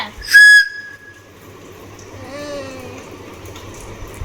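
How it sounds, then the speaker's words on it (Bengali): A child blows a toy whistle: one sharp, shrill toot near the start, then a softer wavering whistle about two seconds later over a low background rumble. "এটা দিয়ে বাসি বাজাচ্ছে"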